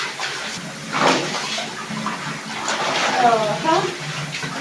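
Cross stitch pieces being rinsed by hand in a basin of water: splashing and sloshing swirls rise and fall close by while a person talks over the washing.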